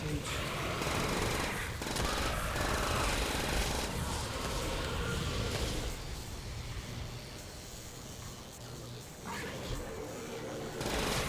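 A PPSh submachine gun in a Call of Duty World War II zombies game fires in long, dense rapid bursts, loud and nearly continuous with brief pauses, heard close and alone.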